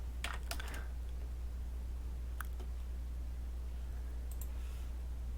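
Typing on a computer keyboard, a few quick key clicks at the start, then scattered single taps later, faint against a steady low hum, no voices.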